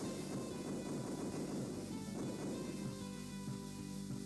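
A lightning laser weapon fires in a shoot 'em up video game, a dense, continuous crackling roar like thunder and rain, loud and steady throughout with a slight thinning toward the end, and no voices.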